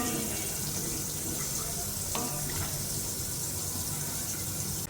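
Water pours in a steady, close, continuous gush into a pot of simmering curry, filling the whole stretch at even loudness, with faint speech beneath.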